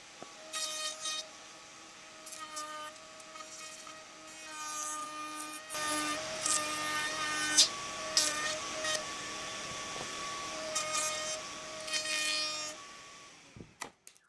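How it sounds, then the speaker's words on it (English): Router with a large round-over bit shaping the bottom edge of cheap plywood, a steady high whine that rises into a loud cutting growl when the bit bites, then stops abruptly with a few clunks. "I'll round over the bottom edge, and to do that I'll use a large round over bit in the router"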